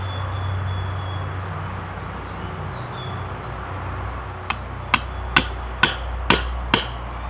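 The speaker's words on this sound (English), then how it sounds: "Get to the other side so you can see some good hammering action." Six sharp metal hammer blows strike a ZT 0180 knife, landing roughly half a second apart and loud against a steady low rumble, preceded by several seconds of background noise.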